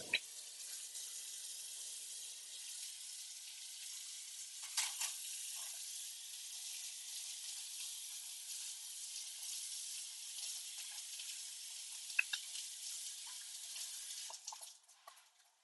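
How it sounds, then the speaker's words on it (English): Salted water boils in a pot on a kitchen stove, a steady bubbling hiss with a few brief clinks, no talking over it. "Okay, water's boiling. It's salted."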